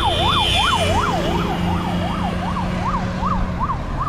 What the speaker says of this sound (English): So now the ambulance came.